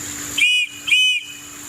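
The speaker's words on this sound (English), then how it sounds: "You have a whistle here, emergency whistle. It actually sounds like a train whistle." Two loud, shrill blasts from the emergency whistle built into an Opinel No. 12 Explore folding knife, each about a quarter second long and evenly spaced, with a steady high tone reminiscent of a train whistle over faint background hum.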